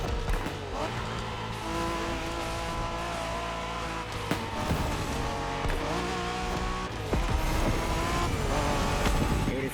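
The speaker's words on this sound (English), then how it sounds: "We're going for some proper Japanese street racing." Japanese street racing cars in The Crew Motorfest, engines droning and revving steadily with occasional tire squeals, all loud and continuous with a busy game mix around them.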